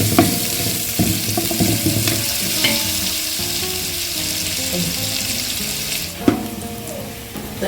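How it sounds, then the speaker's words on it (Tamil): Onions sautéing in a pan for mutton dum biryani make a loud, close, rushing sizzle with occasional spoon clanks and scrapes as they are stirred, continuous throughout. "வெங்காயம் நல்லா வதங்கிட்டு"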